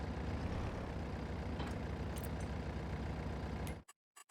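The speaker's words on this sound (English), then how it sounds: "Look at this tiny ass tractor pulling this big ass thing" A small tractor in Farming Simulator 22 drones steadily while hauling a large trailer, a low continuous engine rumble that cuts off abruptly near the end, followed by a couple of brief clicks.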